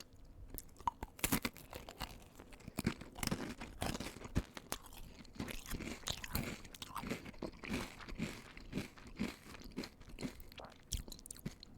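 Crunching into a mini ice cream drumstick with a chocolate coating and a waffle cone: close, crisp bites and steady chewing repeat through the clip with no talk.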